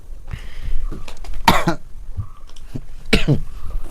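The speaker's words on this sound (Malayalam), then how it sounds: "എന്താ ചുമയൊക്കെ" Two harsh, loud coughs close by, spaced about two seconds apart, with faint background noise between them.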